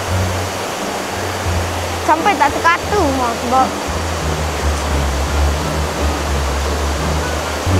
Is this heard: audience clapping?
no